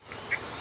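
Birds calling outdoors, with a few short quacking or honking calls over steady background hiss in a brief moment.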